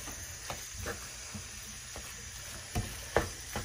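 Minced meat sizzles steadily in a pan with paprika, cumin, pepper, salt and parsley flakes, a continuous close hiss broken by a few soft stirring scrapes and taps, no voices.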